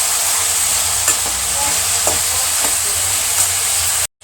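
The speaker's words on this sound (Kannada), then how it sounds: "ಚೆನ್ನಾಗಿ ಫ್ರೈ ಮಾಡ್ಕೊಳ್ಳೋಣ." Ginger garlic paste fries in a hot pan with a loud, steady sizzle, broken by a few stirring scrapes, and it stops suddenly at the end with no talking.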